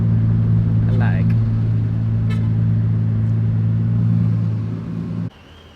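A Lamborghini Diablo 6.0 engine runs loud and close with a steady, deep droning hum, then cuts off abruptly near the end, with brief voices over it.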